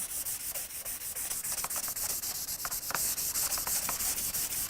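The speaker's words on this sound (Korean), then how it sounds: "스테인 하기 전에 사포질을 살짝 해주시면 좋습니다" Light, steady sandpaper strokes rubbing across wood in a regular back-and-forth rhythm, close and fairly quiet, with no voices.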